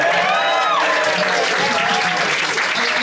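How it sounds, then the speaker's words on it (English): Audience applause at a comedy show, a dense burst of clapping from a crowd with cheering voices mixed in, loud and continuous throughout. "give Tom a round of applause, bless you."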